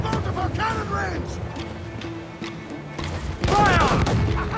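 Ship cannon fire from a naval battle in the video game Assassin's Creed IV Black Flag: heavy booms and crashing impacts, with a loud burst near the end, under shouted crew orders and voices.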